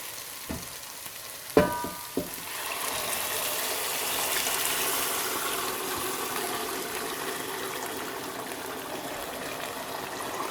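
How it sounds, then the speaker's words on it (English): Cooked mutton hitting a pan of frying masalas for an Indian lamb curry: a couple of sharp thuds as it lands, then a steady, loud hiss of sizzling oil that carries on to the end. "I'm just going to add in the cooked mutton into it"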